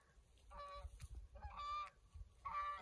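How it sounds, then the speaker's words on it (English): Three honks from geese at a Colorado high mountain lake, evenly spaced, at a moderate distance and fairly faint, over a low rumbling background. "You hear the geese? Yes. That is the geese."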